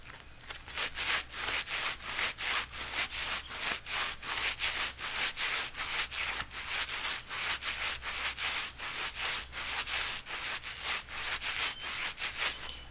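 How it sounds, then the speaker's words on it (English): Gloves are rubbed together and squeezed close to the microphone in a steady, rhythmic series of soft swishing strokes, roughly two per second, quiet and with no talking. "I love rubbing them together and squeezing them."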